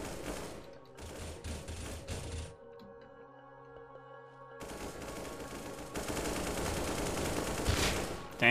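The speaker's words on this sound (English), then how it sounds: "bullets flying right over my head" Gunfire from a team deathmatch in the video game Unturned, with rapid bursts and bullets cracking past close overhead, breaking off briefly into a quieter stretch before dense automatic fire resumes and builds to the end.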